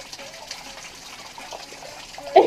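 Cold mineral spring water runs steadily inside a cave, a soft continuous flow that is fairly faint and close, with a brief louder splash near the end.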